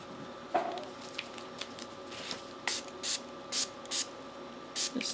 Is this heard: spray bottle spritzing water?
yes